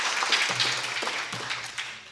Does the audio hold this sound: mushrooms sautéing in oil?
no